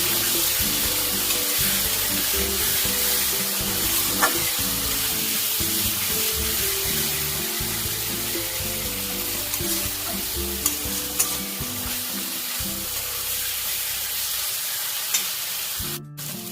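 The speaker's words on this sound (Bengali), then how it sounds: "মশলাটা আমি ভালো করে করতে দিচ্ছি" Masala spice paste sizzles and fries in oil for a Bengali pabda fish curry, with steady stirring scrapes and a continuous close, loud sizzle, briefly hissing as water splashes in near the end.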